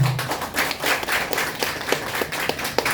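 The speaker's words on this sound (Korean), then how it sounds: "가수들에게 박수 좀 한번 쳐주십시오" At a monthly meeting of a national Bae Ho singers' association, the audience gives the impersonation contest singers a round of close, brisk clapping, a busy patter of many hands throughout.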